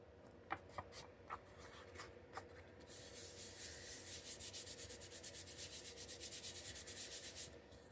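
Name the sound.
sanding through book page paper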